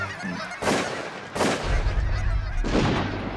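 A big flock of geese mixed with ducks honks overhead during a waterfowl hunt over decoys, with loud overlapping calls rising in three bursts amid open-air noise.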